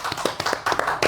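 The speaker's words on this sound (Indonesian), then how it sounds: "Tepuk tangan." A few quick hand claps in a podcast studio, sharp and close, loosely spaced across about a second with no talking.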